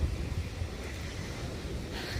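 Ocean surf rolls steadily onto a beach along a coastal walking trail on Jeju Island, a continuous broadband wash mixed with wind rumble against the microphone, with no talking.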